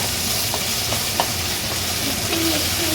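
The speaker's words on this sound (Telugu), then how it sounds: "ఇప్పుడైతే కలుపుకోవాలి, మిక్సింగ్" Chicken curry stirred and mixed in a pan, a steady frying sizzle with soft, occasional spoon scrapes running continuously at close range, no voices.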